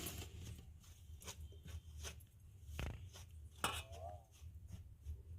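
A spoon clinks and scrapes in a bowl as salted beetroot chapati dough ingredients are stirred together, with close, irregular taps and light rattles.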